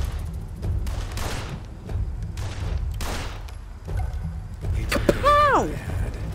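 Gunfire in the video game Blues and Bullets: several sharp shots spaced about a second apart, then a brief rising tonal game effect, with a player talking over parts of it.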